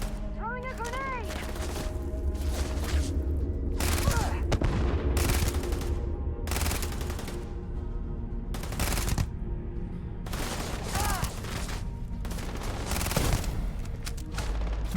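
Continuous gunfire with booms from a grenade explosion during combat in the Starfield video game, loud overlapping bursts throughout, with a person talking over the fighting.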